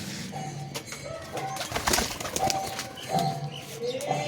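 A pair of Giribaj pigeons from Murshidabad take off and fly upward, their wings flapping in repeated close, rustling bursts, with occasional soft cooing and other bird sounds mixed in.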